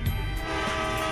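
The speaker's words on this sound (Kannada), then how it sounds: "ಇದ್ರಲ್ಲಿ ನಾನು ಟ್ರೈನ್ ಓಡಿಸ್ತಿದ್ದೀನಿ ನೋಡಿ" A train in a mobile driving game sounds a sustained, steady horn tone over the rumble of rolling wagons, heard alone and fairly close.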